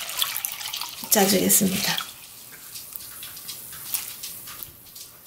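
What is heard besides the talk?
rinsing chives in cold running water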